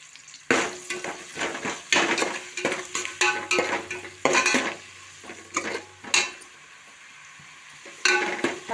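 Country chicken pieces frying in a pan while being stirred, with repeated scraping clatters of a spoon against the pan over a steady sizzle, close and fairly loud, no voices.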